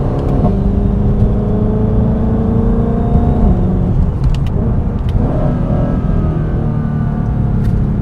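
A twin-turbo Shelby GT500 runs with a loud, steady engine and exhaust drone, the pitch climbing as it pulls through the gears before easing off, heard close from inside the car.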